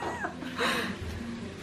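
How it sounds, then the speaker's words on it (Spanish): A house cat gives a short meow that rises then falls, close and fairly clear over a dull indoor background, with no voices. "Mira este gato acá"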